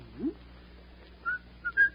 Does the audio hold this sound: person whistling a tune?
yes